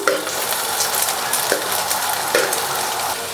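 Garlic and fresh curry leaves sauté in hot oil in a pan, with a bright, continuous sizzle and a few sharp crackling bursts as the leaves are stirred in.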